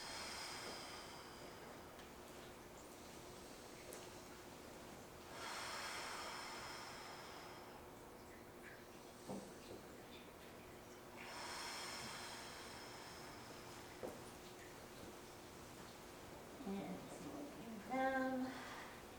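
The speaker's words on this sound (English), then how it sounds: "Nice deep breaths." Deep, slow breaths during standing hamstring stretches come as long airy inhales and exhales in several spaced waves, close and soft, with a few faint snorts and rustles near the end.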